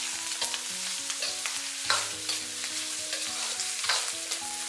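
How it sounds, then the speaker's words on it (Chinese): Garlic cloves and fermented black beans stir-fried in a hot wok for Hunan spicy pork, a steady close sizzle broken by repeated scraping strokes of the spatula, with no talking. "大概给它煸炒30秒左右"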